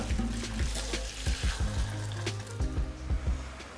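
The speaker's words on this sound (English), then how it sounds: "Pour boiling water." Boiling water gushes from a kettle into a pot for a Turkish white bean and meat stew, a steady splashing pour with gurgling bursts, close and continuous.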